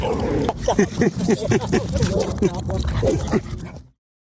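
Dogs whimper and yip in short, high, wavering bursts, close by and repeated, with some barking mixed in before the sound cuts off.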